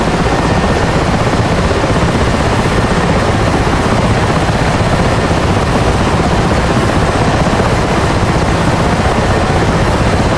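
A helicopter in the DCS World flight simulator drones steadily and loudly throughout, a dense, unbroken engine and rotor roar with no voices over it.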